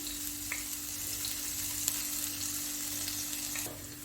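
Ginger garlic paste frying in oil for chicken kachori, a steady soft sizzle with a low constant hum beneath and a few faint clicks, close but quiet and without speech.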